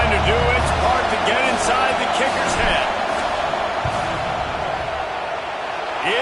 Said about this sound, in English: This crowd trying to do its part to get inside the kicker's head.